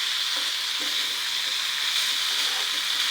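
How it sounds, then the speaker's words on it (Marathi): Ivy gourd and potatoes cook in a pan with a steady, close sizzling and frying hiss, even and continuous with no talk. "तोंडले आणि बटाटे छान शिजतात"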